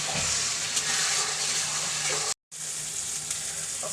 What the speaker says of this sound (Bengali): সব কিছু মশলা দিয়ে একটু জল দিয়ে দিচ্ছি